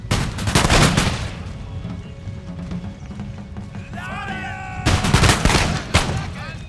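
Musket volleys in the video game Empire Total War, two dense crackling bursts at the start and near the end, loud and rolling, with battlefield clatter and a faint voice in between.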